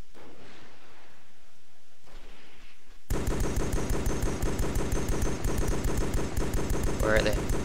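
Sustained automatic gunfire in the military shooter Joint Operations: Typhoon Rising, a loud rapid rattle of shots that bursts in suddenly after a few quiet seconds and keeps hammering without pause to the end.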